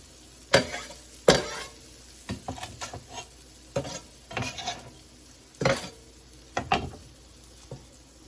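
A rubber spatula stirs vegetable curry in a pot, producing irregular scraping and sloshing strokes, some louder bursts among softer ones, close up and without talk.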